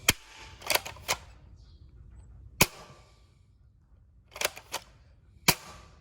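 Nerf Villanaitor toy blaster fires a series of sharp, snappy shots: a single crack, a quick burst of three, another lone shot, then a tight cluster and a final crack, each distinct against a quiet room.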